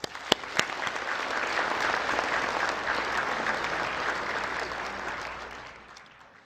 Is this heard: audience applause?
yes